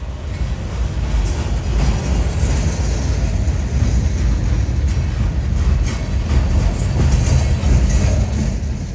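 Freight train rolling past close by with a string of loaded lumber flatcars from an Oregon mill on a branch line, a loud continuous rumble and rail roar with faint wheel clatter, steady throughout with no voices.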